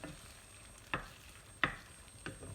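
A spatula scrapes a nonstick pan in three sharp strokes spaced about a second apart while stir-frying egg, over faint background sizzling.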